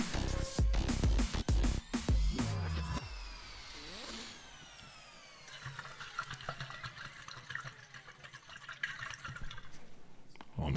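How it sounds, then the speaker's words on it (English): Water is poured into a cup, beginning with a few knocks and clatters, then a rising, gurgling fill tone that runs on for several seconds, fairly quiet and close. "Okay, let me get some water real quick."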